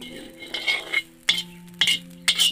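Jute leaves fry crisp in a wok on low heat, giving short crackling sizzles and a few metallic scrapes and clinks of a spatula in quick bursts, close and loud.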